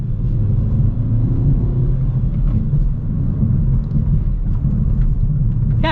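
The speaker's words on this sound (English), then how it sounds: "let's see how the rev match downshifting is" A 2022 Kia Forte GT with a manual gearbox drives along with a loud steady engine and road rumble from inside the cabin, its revs shifting briefly as the driver blips the throttle for a downshift.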